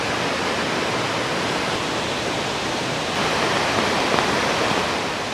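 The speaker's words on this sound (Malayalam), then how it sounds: "ഇത് കണ്ടോ ചെറിയൊരു വെള്ളച്ചാട്ടം." Vazhachal waterfall near Athirappilly pours with a loud, unbroken roar of rushing water, a steady wash of noise with no voices.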